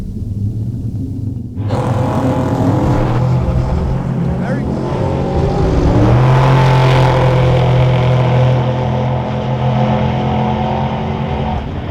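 A 2012 Mustang GT with Stage 1 modifications roars loudly at close range down a quarter-mile drag strip, engine pitch climbing steadily under hard acceleration with continuous rumble.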